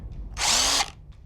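A power drill whirs in one short, loud burst of about half a second while screws are driven to mount hexagon garage lights. Quiet room noise comes before and after, with no talk.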